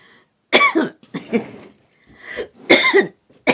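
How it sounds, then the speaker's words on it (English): Several sharp coughs in quick bursts, close and loud, with short pauses between them. "Now I got the coughing."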